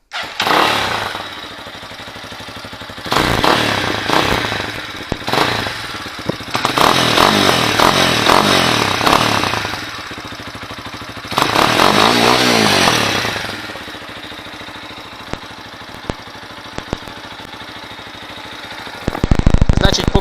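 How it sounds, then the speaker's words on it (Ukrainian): An Exdrive Tracker 250 motorcycle engine rumbles with a deep, bassy exhaust note, rising in bursts of revving between steadier idling stretches, close and loud. "не тарабаняща, а іменно такий басовий, басовитий вихлоп такий"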